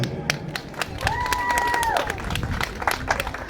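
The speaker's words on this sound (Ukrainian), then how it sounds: "Ваші аплодисменти!" Outdoor audience applauding and cheering for a trumpeter and one-man-band at an open-air show, steady clapping crowd throughout with scattered shouts and a brief sustained musical tone partway through.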